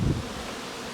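Honey bees swarm around an open beehive during a Snelgrove split inspection, a dense, steady, close buzzing with a slightly louder burst at the start and no speech.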